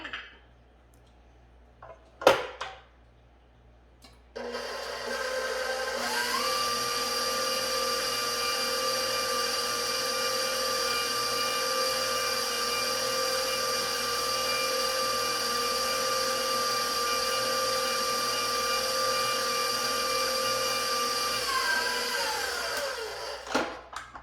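An electric mixer beats chocolate chip cookie dough after a tablespoon of vanilla goes in, starting with a few clunks, then a loud steady whirring drone that holds for about twenty seconds before winding down near the end, close with no talking.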